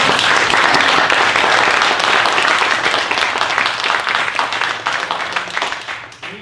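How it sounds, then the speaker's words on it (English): Loud close applause from a meeting audience after a talk on global entrepreneurs, a dense roar of clapping that gradually tapers off toward the end. "Big round of applause"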